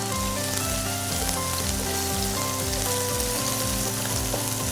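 Shrimp in a crisp coating fry slowly in hot oil, giving a steady, close, even sizzle and crackle with no voices.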